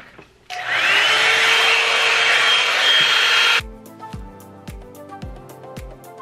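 A hair blow dryer runs on its high setting while hair is dried and brushed, a loud steady whirring roar lasting about three seconds before cutting off, followed by quieter rhythmic tapping and clicking.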